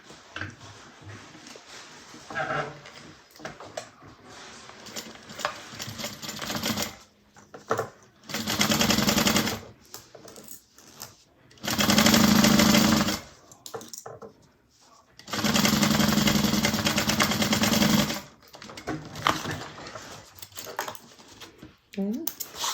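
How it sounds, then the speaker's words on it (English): Domestic sewing machine stitching zipper tape to a bag lining at a quarter-inch seam, running in three steady bursts of several seconds each, separated by quieter pauses with talking. "we're going to sew that at 1/4 inch"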